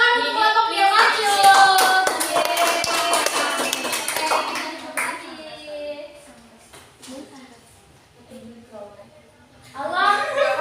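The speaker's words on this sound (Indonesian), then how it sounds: "Beri tepuk tangan untuk kelompok yang maju." Children in a classroom clap for a group, a burst of hand clapping mixed with kids' voices and chatter, then quieter talking before another lively spell of voices.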